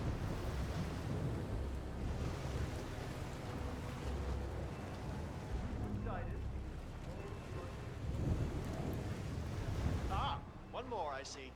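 Water and waves on the Isle of Sgail in the Hitman 2 video game: a continuous wash of surf and wind rolls on steadily, then eases near the end, with faint voices in the background.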